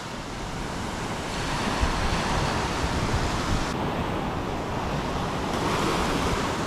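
Ocean surf rolling onto a beach, a continuous loud wash of breaking waves with wind rumbling across the microphone, no voices.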